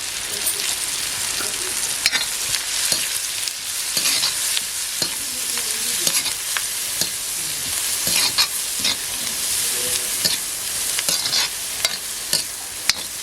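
Sliced onion frying in hot oil on a griddle over a wood-fired stove: a steady broadband sizzle with scattered scraping and stirring clicks throughout, close and fairly loud, with no talk.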